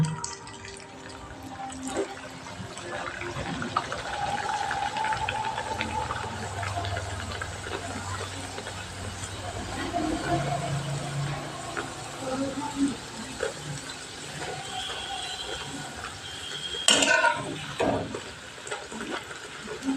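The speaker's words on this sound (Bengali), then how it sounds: "এবার তেলের মধ্যে আমি লুচিটা দিয়ে ভালো করে ভেজে নেব।" Continuous bubbling sizzle of pea-stuffed kochuri dough frying in hot oil, with occasional clinks and scraping, and a voice talking faintly over it.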